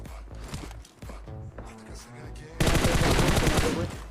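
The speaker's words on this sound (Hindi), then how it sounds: "अभी यहाँ पे काफ़ी जगह से फायरिंग साउंड चल रही थी।" Gunfire from a battle-royale style video game: scattered shots and bursts early on, then a dense, loud rapid stream of automatic fire in the second half, with a voice talking under the earlier part.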